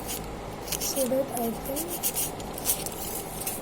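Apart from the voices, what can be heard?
cutting craft material with a sharp cutter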